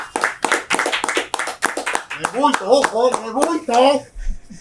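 An audience gives a short run of sharp, separate claps for a retired division general, Moisés del Castillo Merino, before a voice takes over and talks on without any clapping underneath.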